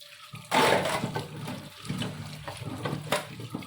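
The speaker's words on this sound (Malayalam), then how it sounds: "ഇനി ഒന്ന് കഴുകിയെടുക്കാം" Peeled cassava (tapioca) rinsed in water in a home kitchen: a sudden splashing rush begins after a short pause and then continues as softer sloshing and trickling, close and fairly loud, with no talking.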